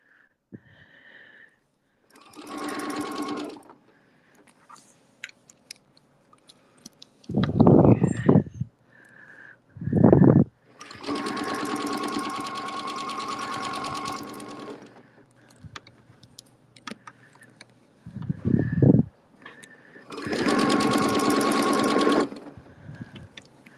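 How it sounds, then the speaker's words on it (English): A sewing machine stitches fabric for a Valentine's Day project in several close bursts of steady whirring, each a few seconds long. Pauses between them hold brief low thumps and handling noises. "And I am going to stitch to that."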